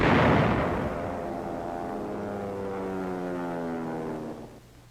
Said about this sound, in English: 6-inch howitzers pound the north wall.